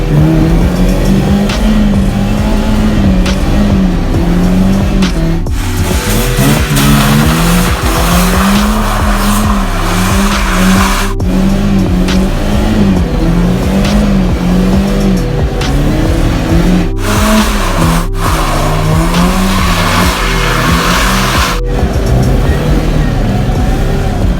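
A BMW E30 driven hard screams through loud, sustained engine revs and repeated tire squeals and skids, the pitch rising and falling with each push, close and loud with brief gaps between bursts.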